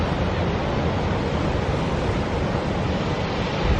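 Rough sea surf breaking at Kynance Cove on the Cornish coast, a steady, loud roar of churning waves with some wind buffeting, continuous and without voices.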